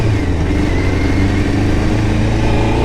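A Honda CBR600 motorcycle riding along, engine humming at a steady mid pitch with constant wind and road noise, close and loud, no talk.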